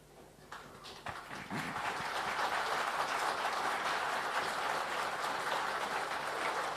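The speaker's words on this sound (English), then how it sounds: "that question, that's drawn a bit of an applause" Audience applause at an industry panel discussion rises after a few early claps into a steady, sustained wash of clapping from a large crowd, heard at a distance and fairly faint.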